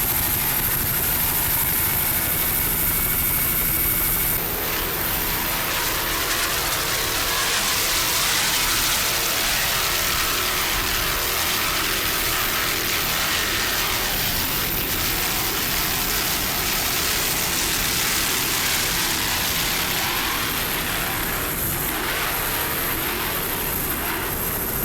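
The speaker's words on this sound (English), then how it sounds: "Nice throttling there by Ron Umland" A 40-foot Hustler powerboat throttles through rough water on Lake Michigan, its engine a broad, steady roar with rushing water noise. The roar swells around the middle and stays heavy throughout.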